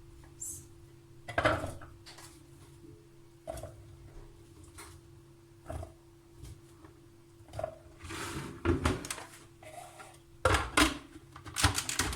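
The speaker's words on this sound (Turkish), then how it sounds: "Şimdi rondodan geçireceğiz." A food processor pulses chopped red peppers in a home kitchen, with short repeated whirring bursts and clattering against the bowl over a steady low hum, close and moderately loud.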